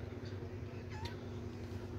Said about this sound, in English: here's the cats